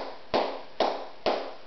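Three muffled claps made with cupped hands, flamenco sordas palmas, evenly spaced with a soft hollow thud, close and alone without speech.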